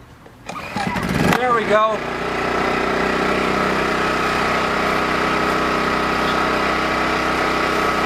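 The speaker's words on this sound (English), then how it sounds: "The generator really will not want to start until the regulator and the hose are fully primed with propane." A Champion 2500 watt dual-fuel generator, model 200961, set to run on propane, cranks briefly, catches and settles into a steady, loud idle close by, with a short spoken remark as it starts.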